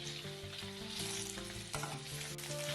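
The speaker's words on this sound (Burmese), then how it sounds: "ကြက်သားကိုအပေါ်ကျော်လေးတင်းလာတဲ့အထိ3မိနစ်လောက်ကြော်ပေးပါမယ်" Steady sizzling of chicken stir-frying in a hot wok, a dense crackle with a faint background tone and a brief stirring clatter, no talking.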